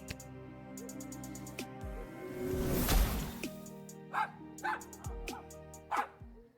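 A small cartoonish dog in the video game Lil' Guardsman gives a few short yips and barks near the end, after a whooshing transformation effect, over a light background music bed.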